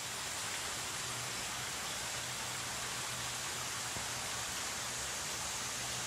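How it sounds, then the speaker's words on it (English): A shallow, low stream on the SugarLoaf trail gives off a steady, even wash of flowing water that fills the whole stretch, faint and unchanging, with no voices. "It's not a lot of water. It's low. It's just a stream."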